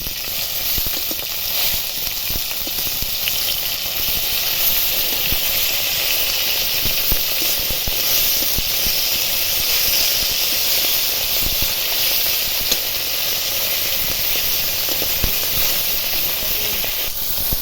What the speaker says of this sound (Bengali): মাছগুলো এক পিট ভাজা হয়ে গেছে উল্টে দেবো